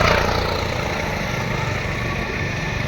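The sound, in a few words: 125cc motorcycle engine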